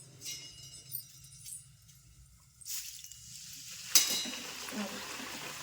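Flattened rice (poha) hits hot oil, and a sudden sizzling burst rises from the pan after a quiet lead-in with faint stirring sounds, close and moderately loud.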